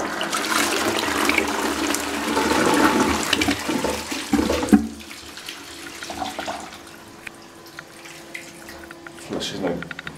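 An Armitage Shanks Sandringham toilet from 2014–2015, a 4 to 4.5 litre low-flush model, flushes with a loud close rush of water for about five seconds, then trickles and refills quietly.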